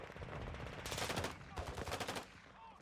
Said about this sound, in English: Notice how the bots are shooting and going crazy in the city